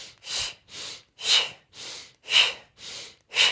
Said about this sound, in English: So we're inhaling and then exhaling through the mouth.